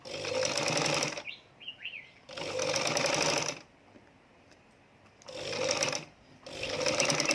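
A sewing machine stitches a tailored collar seam in several bursts of about a second each, separated by pauses with faint chirpy squeaks and quiet handling of fabric.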